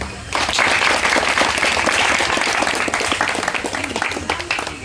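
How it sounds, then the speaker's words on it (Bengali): A crowd at a jatra theatre troupe's 200th-performance celebration breaks into loud, sustained applause after a brief quiet start, many hands clapping densely until the end. "একটি হাততালি দিন"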